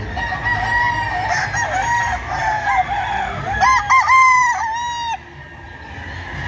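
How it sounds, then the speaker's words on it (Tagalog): Green-legged fighting roosters at a hobby expo and pet convention, several loud overlapping crows up close with clucking, over a noisy indoor crowd background. "Matitikas na mga manok."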